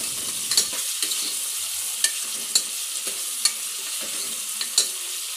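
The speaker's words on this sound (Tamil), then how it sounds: "லேசாக பரட்டி விடுங்க." Three ripe tomatoes frying in a pan for chicken biryani, a steady bright sizzle punctuated by regular light clicks and scrapes of a spoon stirring them.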